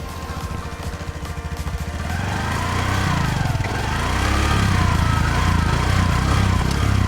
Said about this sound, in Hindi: इसके एग्जॉस्ट का साउंड सुनिए आप।